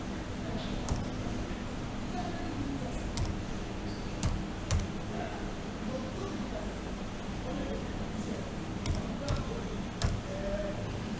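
Keys tap on a computer keyboard while a program name is typed into the Windows search bar, giving sparse, faint clicks scattered over a steady background hum.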